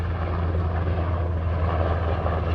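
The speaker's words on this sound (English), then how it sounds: "I can't even tell what kind of helicopter it is." A helicopter passes overhead in Washington, DC, heading along the Tidal Basin, giving a steady, loud low-pitched rotor and engine drone with no pauses.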